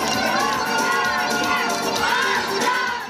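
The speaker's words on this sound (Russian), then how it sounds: "Под бахчисарайскую Хайтарму и аплодисменты родители встречают в аэропорту своих детей" At an airport, a crowd of parents cheers and claps as children from a dance ensemble arrive, a dense, loud, continuous wash of shouting and excited voices with music underneath.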